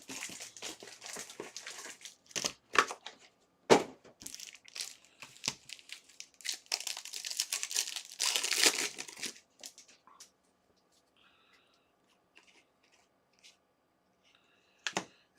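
Topps UFC Finest trading card packs being ripped open, with close crinkling, tearing and crushing of foil wrappers in quick bursts, then quieter sparse handling of the cards.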